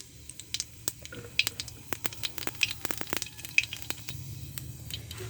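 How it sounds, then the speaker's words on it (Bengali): Nigella seeds (kalo jira) crackle and spit in hot oil in a pan, a run of sharp close pops and sizzling patter over a low frying hiss, cooking for a small-crab and ash gourd curry. "তেল গরম হয়ে গেছে এবার আমি কালো জিরা দিচ্ছি তেলে"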